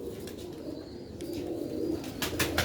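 Ferozpuri pigeons cooing in a loft, soft, low rolling coos running continuously at moderate distance, with a few brief higher chirps near the end and no speech.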